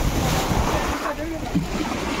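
Rushing river water near Ettipothala Waterfalls at Nagarjuna Sagar flows steadily with a broad wash of noise and some wind buffeting, continuous and fairly close throughout.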